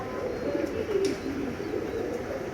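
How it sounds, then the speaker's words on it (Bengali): Pigeons coo softly and intermittently while rain falls, with a constant wet hiss of rainfall underneath the calls. "এই যে কবুতর"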